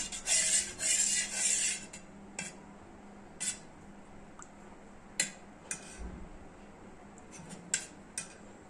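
A spoon clinks and scrapes against a vessel while sugar is stirred into a raw mango panha drink, with quick metallic taps and swirls, a busy burst at the start and then sparse clicks, close and with no voices.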